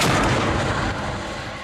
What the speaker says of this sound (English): An explosion in the base of the cannon creates a single pulse of air the shape of a donut.